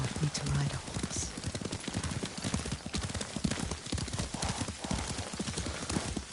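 Horse hooves clip-clop steadily during a ride in the samurai video game Ghost of Tsushima, a quick continuous rhythm of hoofbeats heard close and fairly loud with some background noise.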